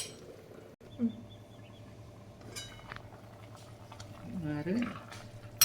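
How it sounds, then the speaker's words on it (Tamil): Soft bubbling of meat boiling in water in a pan, quiet and continuous, with faint clinks and a few low voices in the background. "இந்த தண்ணி சுண்டுற அளவுக்கு வேகணும்"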